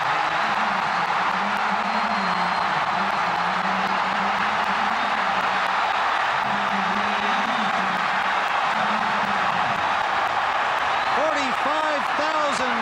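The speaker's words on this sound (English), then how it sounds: "Wildcat fans finally get a chance to cheer on the final play of the half" Wildcat fans in a packed Cotton Bowl stadium on New Year's Day keep up a loud, sustained roar of cheering and crowd noise after a touchdown on the final play of the half, with an announcer talking over it throughout.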